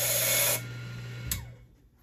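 A freshly cut CH751 key is deburred on a code machine: a brief, bright, whirring grind for about half a second, then a short sharp scrape, with a low motor hum carrying underneath throughout.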